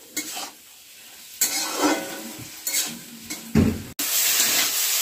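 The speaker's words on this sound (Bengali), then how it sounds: "আবার একটু নাড়াচাড়া করে ঢেকে দেব।" Beans and potatoes with spices stirred in a pan on a home stove: several bursts of scraping utensil strokes and clatter over a light sizzle, ending in a louder steady hiss, close by.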